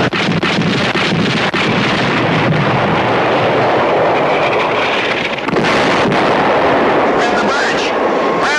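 Artillery fires for effect on enemy troops, heard as loud, continuous booming and roaring under heavy wind noise, with a voice partly audible in the mix.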